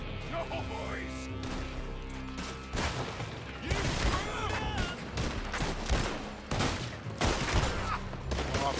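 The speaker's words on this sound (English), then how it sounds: "They heard the gunfire." Rapid bursts of gunfire crackle and boom close by in Red Dead Redemption 2, heavy and sustained, with shouting voices mixed into the chaotic battle noise.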